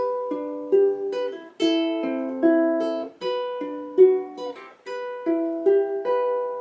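Plucked ukulele notes in a steady fingerpicked pattern, gentle and close, repeating a few bars with no voices.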